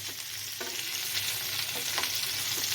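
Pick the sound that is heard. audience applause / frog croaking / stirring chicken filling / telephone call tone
stirring chicken filling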